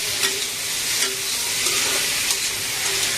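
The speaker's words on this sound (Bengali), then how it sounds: "এটাকে নেড়ে চেড়ে নিব সুন্দরভাবে।" Fried prawns, potato and tomato sizzle in a hot pan while a spoon stirs them, giving a steady close frying hiss with rhythmic scraping strokes and no talk.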